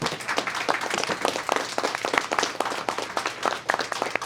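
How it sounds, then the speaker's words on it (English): An audience applauds, a dense patter of many hands clapping steadily at moderate volume throughout. "Round of applause for our panel."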